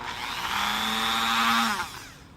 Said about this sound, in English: I'm going to go ahead and grind this out